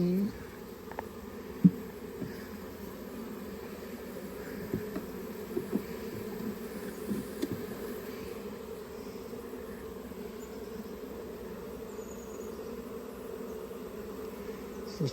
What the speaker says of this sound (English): This is just a collection of lost bees.